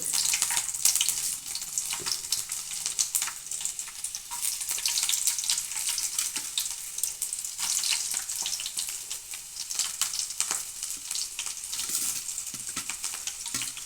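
A tempering of coriander, curry leaves, dried red chillies, onions, garlic and seeds fries in a pan for a Rayalaseema sour greens dish, giving a steady, close, hissing sizzle that runs unbroken throughout.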